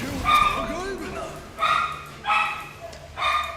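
A dog barks indoors during a live game stream, four sharp yipping barks spaced about a second apart, close and loud, with a person talking in between.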